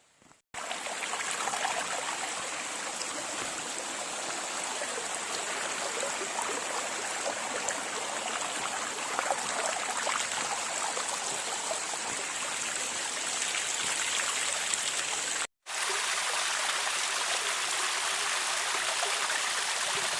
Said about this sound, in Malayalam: അപ്പൊ നമ്മൊരു ചെറിയൊരു വെള്ളച്ചാട്ടത്തിലേക്കാട്ടാ വന്നേക്കണേ. വെള്ളം അധികമില്ല, വേനലായ കാരണം കൊണ്ട് വെള്ളം കാര്യങ്ങളൊക്കെ കുറവാ